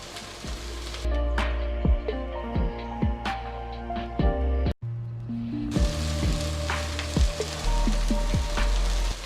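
Six green chilies slit down the middle are dropped into hot oil for a bitter gourd and meat curry, giving a loud, close crackling sizzle with sharp pops, a brief cut partway through, then renewed spattering.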